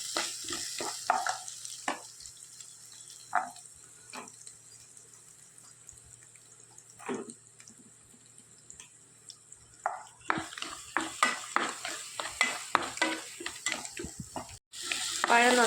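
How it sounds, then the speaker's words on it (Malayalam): Chopped banana sautés in hot ghee in a pan, a quiet, steady sizzle broken by repeated scraping stirs, with no talk over it. "ഈ നെയ്യ് ചൂടായി വരുന്ന സമയം നമ്മളിതിലേക്ക് ഇങ്ങനെ ചെറുതാക്കി നുറുക്കിയെടുത്ത പഴം"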